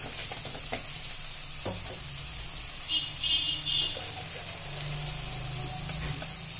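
Tender audumbar fig fruit sautéing in a pan with garam masala, red chili powder, turmeric and coriander. A low, steady sizzle hisses nearby, with occasional soft clicks of stirring.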